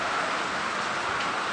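Rain falls steadily on a construction site, a continuous soft hiss at moderate distance, even and unbroken with no voices.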